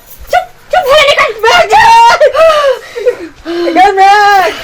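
A person screams and wails in loud, close, strained bursts separated by short breaths, with a cracking, voiced quality.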